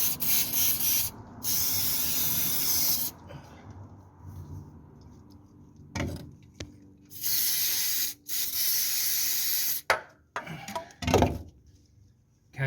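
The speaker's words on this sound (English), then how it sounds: "So we're going to use silicone spray." Silicone spray hisses onto the squeaky suspension bushes of a Hillman Superminx in several bursts, some long and some short, separated by quiet pauses and a few faint clicks and handling noises close by.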